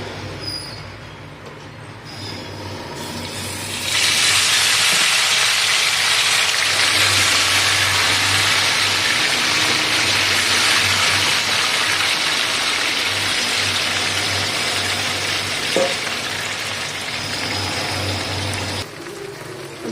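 Neighbouring buildings being torn down make a loud, continuous grinding, rumbling roar that swells after a few seconds and holds for about fifteen seconds before easing off.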